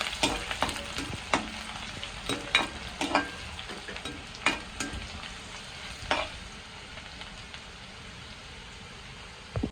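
Ground tomato frying in oil for thokku, with garlic in the pan: a steady, faint sizzle with scattered pops and spatters, and no talk.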